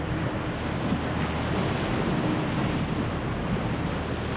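Big ocean waves break and wash over a remote rocky boulder shore in Canadian wilderness, a steady loud roar of surf with wind noise throughout and no distinct individual crashes.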